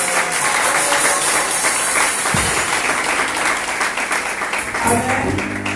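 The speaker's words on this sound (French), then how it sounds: "Est-ce qu'on va acclamer les papas de l'église?" A church congregation at a Sunday service bursts into loud, sustained applause for the fathers, a thick continuous roar of many clapping hands that fades a little toward the end.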